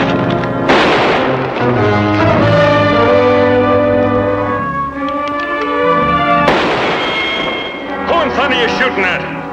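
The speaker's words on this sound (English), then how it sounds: "Put that cannon away!" Cannon fire in an old Western drama, heard as two loud booming blasts several seconds apart, each ringing out over a sustained musical score, with a voice briefly calling out.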